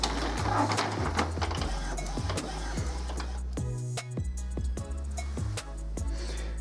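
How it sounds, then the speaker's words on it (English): An Epson WorkForce WF-2510WF inkjet printer whirs and clunks as it feeds and prints a page, its motor stepping in short mechanical pulses with occasional clicks. "Now it'll take your printer a minute to print out this page."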